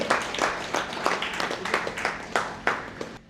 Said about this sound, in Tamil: உங்களுடைய உற்சாகமான கரகோஷங்களுக்கு மத்தியிலே இந்த மேடையிலே வழங்கி வைக்கின்றோம்